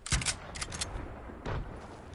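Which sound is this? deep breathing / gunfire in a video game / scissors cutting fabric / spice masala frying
gunfire in a video game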